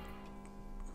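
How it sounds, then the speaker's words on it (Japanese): A clock in the 999 video game ticks steadily and faintly, with a few sharp ticks over a dense, continuous background hum. "大階段にあったあの時計の音のようだな。"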